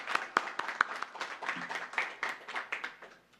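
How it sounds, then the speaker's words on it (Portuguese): A church congregation claps during a worship service, with irregular sharp hand claps scattered over a few seconds, moderately quiet and somewhat sparse rather than a dense ovation. "Vamos aplaudir o Senhor Jesus?"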